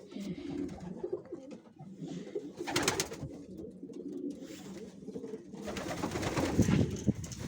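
Pigeons coo repeatedly in low, soft rolling calls against outdoor background noise, with a couple of brief louder rustling bursts.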